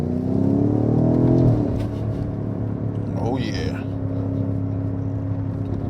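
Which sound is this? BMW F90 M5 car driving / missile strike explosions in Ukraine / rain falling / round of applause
BMW F90 M5 car driving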